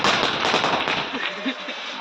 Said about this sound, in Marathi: इथे जरा जास्तच अंधार आहे तर आम्ही आता फटाके वगैरे फोडणार आहे